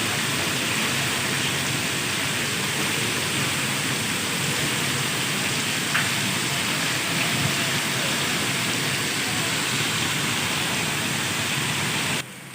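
Heavy stormy rain pours down in Hyderabad as a dense, steady hiss that never lets up, loud and continuous throughout with no voices.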